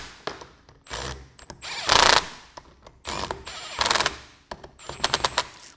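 An impact wrench runs down the bolts on a Schmidt Thompson Valve II rebuild kit in loud, close bursts of rapid hammering rattle, several short runs separated by pauses, with no talk.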